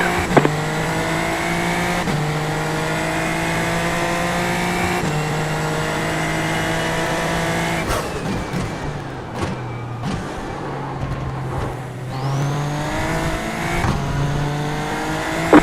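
Formula 3 race car engines in a racing video game rev and shift through gears continuously, loud and steady, with a brief burst of tire noise partway through and no talk.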